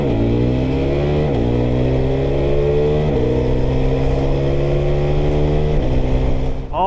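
KTM 390 Adventure R motorcycle accelerating hard, its engine note climbing steadily and dropping briefly at each quick upshift through the quickshifter, three clean gear changes, loud and close with constant wind rush.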